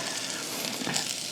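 Vinegar hitting charred peppers in a hot pan gives a steady, loud, close hiss and sizzle with a faint crackle, continuous for the whole short stretch and with no voices.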